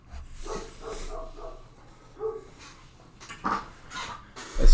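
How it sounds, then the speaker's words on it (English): A neighbour's dog barks a few times from a distance, faint and intermittent over quiet room noise, with no talking. "That's a neighbor's dog barking"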